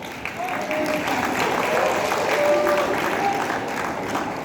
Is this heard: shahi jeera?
no